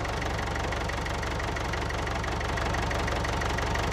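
A tractor engine runs steadily at close range, a dense continuous rumble with an even knocking pulse and no talk over it.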